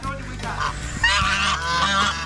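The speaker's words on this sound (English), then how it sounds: "with all that commotion with the ducks" Ducks making a commotion on a country property, with loud, overlapping honking and quacking calls up close, continuous and agitated throughout.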